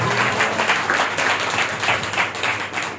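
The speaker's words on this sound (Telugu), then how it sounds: "చప్పట్లు కొట్టండి" A congregation at a Christian Bible gathering claps together in a dense, steady burst of applause lasting several seconds, loud and close.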